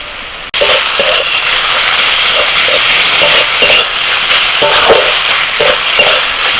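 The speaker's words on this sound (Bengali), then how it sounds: "এর মধ্যে দিয়ে দিচ্ছি বেটে রাখা পোস্ত" Onions fry with ground poppy seed paste in a pan, giving a loud, steady sizzle that starts abruptly and holds throughout, broken by soft scraping and stirring sounds.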